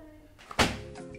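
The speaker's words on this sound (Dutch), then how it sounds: "En doe je deurtje dicht" A small door swung shut in a home kitchen, one near, solid thud with a short rattling tail, alone against low background hum.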